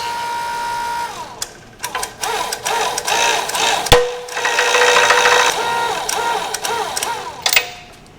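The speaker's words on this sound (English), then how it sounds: "Here I'm getting the pistons pressed off the rods" Hydraulic press forcing pistons off the connecting rods of a 1968 Pontiac 350 V8 during teardown: a steady mechanical whir with clanks, a sharp bang midway and scattered metallic knocks, close and fairly loud with no talk.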